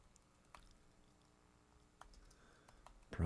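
Faint, sparse taps on a computer keyboard, a few scattered clicks in a quiet room before a louder thump at the end.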